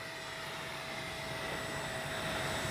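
A Freewing 70mm F9F Panther RC jet makes a full-speed pass down the runway, a steady high electric ducted-fan whine that swells slightly as it nears, with no talking.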